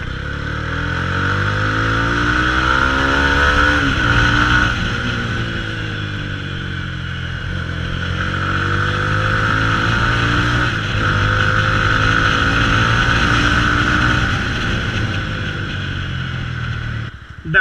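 A modified Mahindra Mojo motorcycle ridden with the exhaust's dB killer removed, its loud engine drone rising and falling through gear changes as it accelerates and eases off, with wind noise and no talking.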